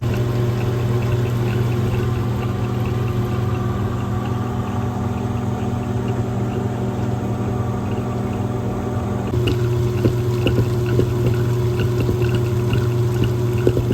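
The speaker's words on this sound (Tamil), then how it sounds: "இந்த மிஷினில் தான் அரைக்க போகிறேன்" A wet grinder runs steadily while grinding soaked rice and fenugreek into idli batter, giving a continuous loud motorized churning hum with a faint watery swish and a slight change in tone partway through.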